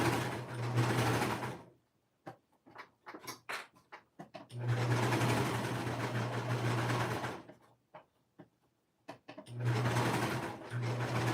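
A sewing machine stitching a kid's peplum top slowly in bursts of a few seconds each, separated by quiet pauses filled with small handling clicks and taps, no talking.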